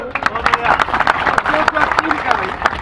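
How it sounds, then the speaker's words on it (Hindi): Audience clapping at a Hindi poetry recital (kavi sammelan), a run of sharp claps mixed with a voice talking over them, loud and close throughout. "तालियां मिलके बजाया करो दोस्त।"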